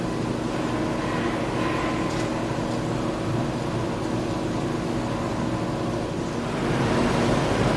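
Tap water flows steadily through a hose into a three-phase Annovi HP200AR pressure washer, a loud, continuous broadband rush that holds throughout and swells slightly near the end.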